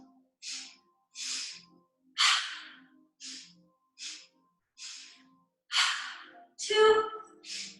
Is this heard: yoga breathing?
yes